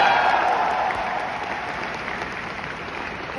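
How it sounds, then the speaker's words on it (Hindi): An audience at a company success-day event claps enthusiastically for a person on stage, dense continuous applause that starts strong and eases slightly while it carries on throughout. "एक बार आकाश जी के लिए जोरदार तालियां।"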